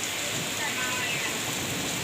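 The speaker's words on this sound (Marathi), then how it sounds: "आम्हाला तर लय पाऊस आहे लय पाऊस आहे कसला वाजत आहे पाऊस" Heavy unseasonal rain pours down steadily during a cyclone-like storm, a dense, continuous hiss that stays loud and even from start to finish with no distinct drops standing out.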